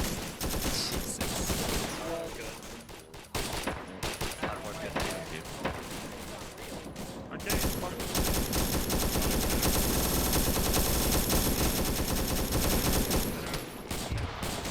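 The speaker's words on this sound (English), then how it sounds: "The twin machine guns" Twin machine guns rattle in sustained, dense bursts during a Vietnam-era Long Tan battle in a multiplayer war game, loud and close, with brief gaps and a voice talking over the gunfire.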